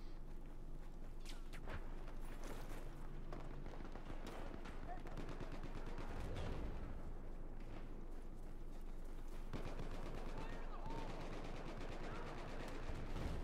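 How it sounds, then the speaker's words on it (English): Rockets and gunfire from the Battlefield 4 game boom and rattle under a continuous wash of battlefield noise, with sharp repeated blasts and bursts of automatic fire during a Rush match, no voice over it. "I know the enemy tank is right there, so I'm going to try and get a few rockets into it"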